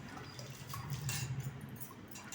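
Soaked ragi grains being washed by hand in a vessel of water, a soft continuous sloshing and trickling close by, with no voices.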